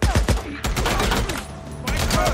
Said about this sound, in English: Heavy guns.